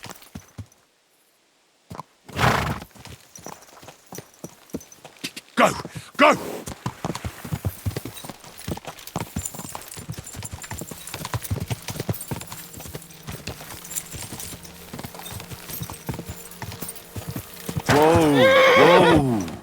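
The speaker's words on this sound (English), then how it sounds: "My, what a beautiful horse." Horse in the video game Kingdom Come Deliverance 2 galloping with steady rhythmic hoof clip-clop, loud and close, with a burst of neighing near the end; a voice shouts briefly over it.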